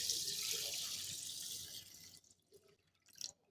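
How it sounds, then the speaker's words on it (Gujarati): Water pours from a tap over fenugreek seeds to soak them, a bright steady splashing stream that fades out, followed by a few quiet drips and a short final trickle. "હવે આપણે અહીંયા મેથી દાણા ડૂબે એટલું પાણી ઉમેરી દઈશું"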